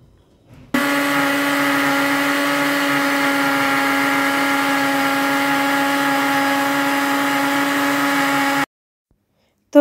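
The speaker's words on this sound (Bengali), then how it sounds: "এখানে কমলার যে বিচি সেটা ফেলে দিয়ে তারপরে ব্লেন্ডার জগে নিয়ে নিচ্ছি" An electric blender whirs steadily in its jug, blending peeled orange pieces with the seeds removed into juice. The motor runs loud and even for about eight seconds with no talking, then cuts off abruptly.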